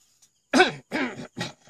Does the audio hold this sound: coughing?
yes